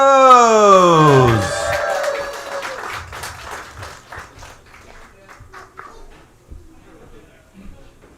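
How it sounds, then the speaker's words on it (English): Comedy club audience at a speakeasy applauding a stand-up comedian, starting with a loud burst mixed with a rising tonal sound, then settling into scattered clapping and murmurs that fade into quiet room noise. "keep that round of applause going for your next comedian"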